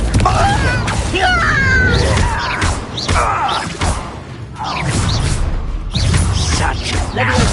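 Confringo fire-blast spells in combat at a goblin camp in Hogwarts Legacy on PS5 make repeated loud whooshing blasts, heavy thuds and crashes, mixed with grunting voices and game effects.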